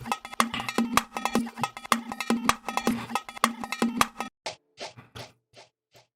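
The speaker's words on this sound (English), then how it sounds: "And then we have the drill bongos." Drill bongos: rapid, rattling percussive hits in a busy looped pattern, then several isolated sharp drum strikes with gaps between them; no voices.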